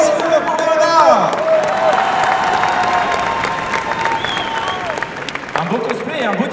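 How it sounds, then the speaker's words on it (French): A crowd at an esports event's cosplay contest in Lyon applauds and cheers a cosplayer, loud steady clapping with a few whoops, under music and voices from the hall. "Des applaudissements, s'il vous plaît, pour Léona"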